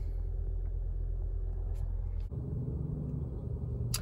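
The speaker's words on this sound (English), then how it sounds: "the engine just fired up when it dropped that second to the last bar there" 2007 Toyota Camry hybrid engine running, a low steady rumble and idle that shifts in character partway through, close and continuous, with no talking.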